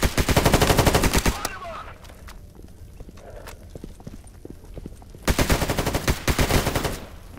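Automatic gunfire in S.T.A.L.K.E.R. GAMMA, aimed at Snorks in an underground city, comes in two loud rapid bursts. A quieter stretch between them holds scattered single shots and clatter.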